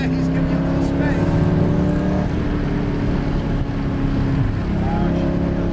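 Ford GT sports car engine drones loudly from the cabin in a sustained pull with rising tones, while a voice is faintly present underneath.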